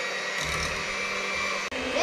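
An electric mixer whirs steadily while mixing pumpkin pie filling, a continuous close motor hum with a slight change in pitch and one brief dip near the end.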